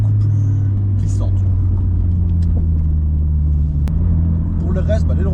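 A Toyota GT86 engine drones steadily with a low, constant rumble while the car eases around a small roundabout on light throttle, a voice speaking quietly over it.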